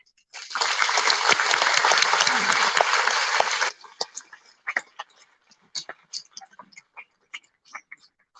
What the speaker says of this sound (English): I want a round of applause for them